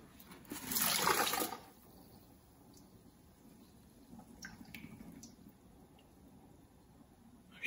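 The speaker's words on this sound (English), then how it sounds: "my method is just going to be to pour the whole jar out into the filter bag" Homemade makgeolli is tipped from a jar into a filter bag in one loud gushing splash lasting about a second, then a quiet stretch of faint drips and small wet movements, with no talking.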